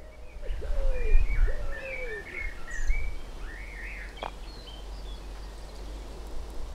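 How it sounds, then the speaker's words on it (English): Two blackbirds sing in fluting, warbling phrases in an English back garden in May, against a steady low hum of background noise, fairly close and clear, with no voices. "We've got two blackbirds singing."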